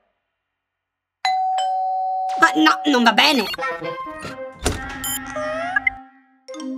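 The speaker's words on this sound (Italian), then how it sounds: "Suona come un campanello!" A bright ding-dong chime like a doorbell sounds amid clattering tones, with a voice briefly exclaiming near the end.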